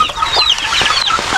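Gamefowl in a small backyard setting clucking close and loud, a run of quick overlapping throaty clucks and short calls with no talk.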